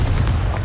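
A Confringo spell explosion in the video game Hogwarts Legacy, a single short, loud, close burst with a deep booming body.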